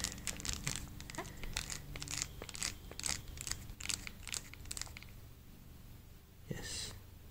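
Buttons on a Nokia N950's slide-out keyboard are mashed, giving a quick, irregular run of close, quiet plastic clicks and taps that stops near the end.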